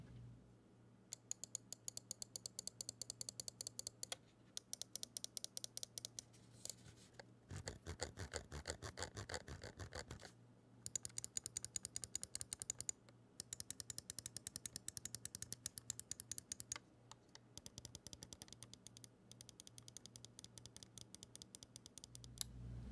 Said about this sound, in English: the rear side button does have a little bit of some soft clicks, a little bit mushier than, say, the front